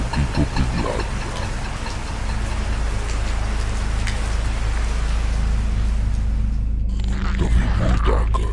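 Steady heavy rain pouring down in a dense, continuous hiss, with a low rumble underneath and some faint voices toward the end.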